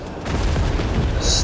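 Gunfire striking the player's plane in War Thunder during an aerial fight with BF 109s, a dense rumbling burst of booming impacts with a short high metallic ping near the end.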